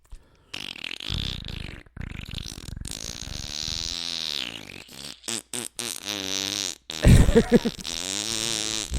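A person imitates a long fart with their voice, a sustained buzzing raspberry that wavers and sputters for several seconds. It breaks into choppy bursts near the end, close and loud, with no other talk.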